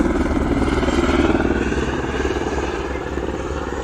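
Helicopters fly toward a wildfire in the countryside, giving a steady low rotor drone with a fast pulsing chop that holds for a few seconds at a moderate distance.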